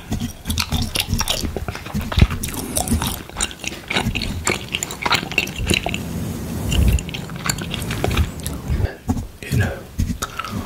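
Close, wet gum chewing in an ASMR mouth-sound session, heard as steady squishy smacks and bites mixed with soft brushing against a microphone, continuing without a break at close range.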